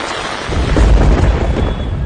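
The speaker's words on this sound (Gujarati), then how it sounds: "રાજસ્થાનના સિકરમાં આંધી સાથે વરસાદ ત્રાટક્યો।" A deep rolling rumble of thunder swells up over rain during a storm with a dusty squall in Sikar, Rajasthan, loud and close, peaking midway and fading slightly toward the end.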